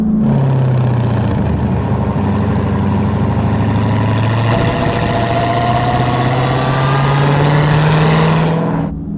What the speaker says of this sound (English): And that exhaust noise is a symphony as well